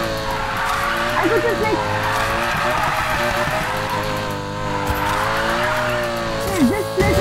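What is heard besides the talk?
Lamborghini Huracan drifting with tire squeal in a video game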